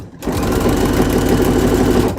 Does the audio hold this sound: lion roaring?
no